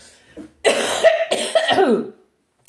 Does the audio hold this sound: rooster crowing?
no